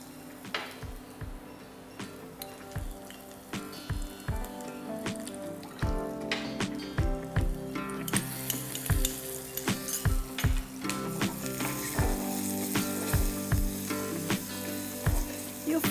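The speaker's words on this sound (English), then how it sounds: "You fry all the ingredients until it is a little fragrant." Chili, turmeric and other ingredients for Sri Lankan Malay-style jackfruit sizzling in a hot pan, a steady fry under repeated sharp scrapes and taps of a spoon stirring, growing busier and brighter midway.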